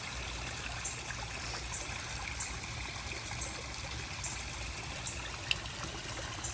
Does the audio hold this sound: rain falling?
yes